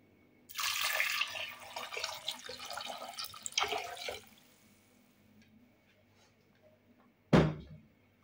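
Ninety centilitres of water splash and pour into a cooking pot with cloves, plum and apple, a close burst of running liquid fading to quiet, then a short sharp clatter near the end.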